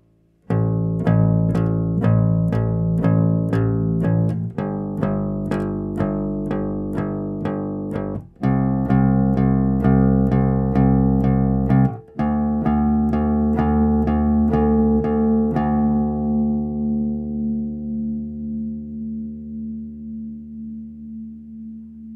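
Electric bass guitar plays a complete repeating bass line, with a steady run of plucked notes and a few brief gaps, ending on a long note that rings out and fades. No voices are heard.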